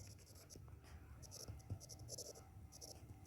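Pen or pencil writing an English sentence by hand, soft close scratchy strokes in short bursts, with a voice talking quietly over them.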